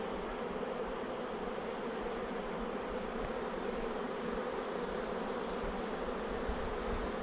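A swarm of honey bees buzzes inside a hive, a dense, continuous drone that stays steady and even throughout, with no voices.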